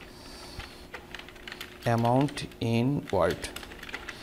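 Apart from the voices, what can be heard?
typing on a computer keyboard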